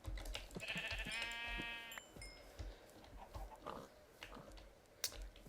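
A sheep bleats in the video game Minecraft, one wavering bleat near the start followed by faint game clicks and soft thuds, fairly quiet and with no talking.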